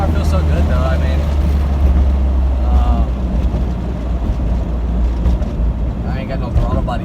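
A K24-swapped Toyota MR2 accelerating hard through the gears, its engine a loud, steady drone with rising pitch as it pulls, and a voice speaking over it.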